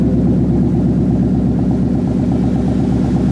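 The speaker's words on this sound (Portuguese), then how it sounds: "Nossa. Olha o motor, galera." A Ford Mustang engine idles loudly and steadily nearby, with a deep, even, throbbing rumble that holds constant throughout without talking.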